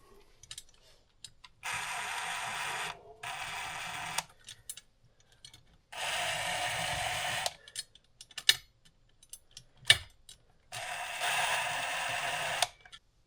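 Spokes are tightened on a respoked Suzuki RM125 motorcycle wheel with an Allen key, giving three bursts of close, dense ratcheting ticks. Quiet gaps with scattered clicks fall between the bursts.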